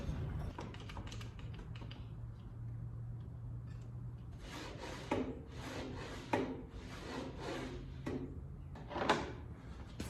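A bandsaw blade cuts a circle in a clamped wooden workpiece, with a low motor hum first and then repeated rasping bursts of wood cutting at a moderate, steady level.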